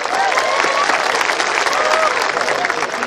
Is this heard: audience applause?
yes